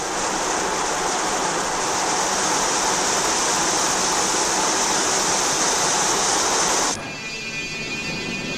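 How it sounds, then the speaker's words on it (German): A factory shower rig sprays water over a Trabant car body during a watertightness test, a loud, steady rushing hiss that cuts off abruptly near the end, leaving a quieter hum. "wird die Karosserie unter einer Duschanlage auf Wasserdichtheit geprüft"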